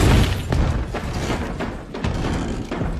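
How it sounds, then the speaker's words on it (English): Loud banging on a door from outside, a series of heavy irregular thuds and knocks in quick succession, close and booming with no voices. "a sudden banging sound came from outside the door"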